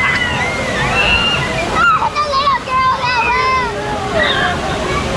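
Water sloshes and splashes loudly onto riders of the Kali River Rapids raft ride, a continuous churning rush with excited voices and shouts over it.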